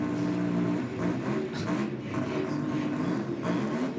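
A car with a triple-rotor rotary engine and three turbos idles and burbles with a rough, uneven throb, steady and close, with slight surges in pitch.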